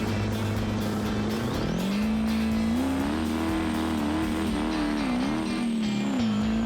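A BeamNG D-Series truck built for mud drags, with tube chassis and big tires, launches in second gear, its engine droning loud and steady and climbing in pitch throughout, with no talking.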